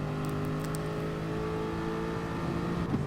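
A race car in Gran Turismo Sport, Manufacturer Series round at Dragon Trail Seaside, powers out of a chicane after late braking. Its engine holds a steady, close, droning roar with no voices.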